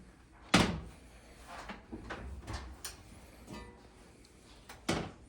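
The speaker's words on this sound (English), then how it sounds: "now we're going to take the Dutch oven out of the oven" Oven door clunks open with a sharp bang near the start, followed by scattered knocks and clanks of handling a Dutch oven in a home kitchen, and a second firm thud near the end.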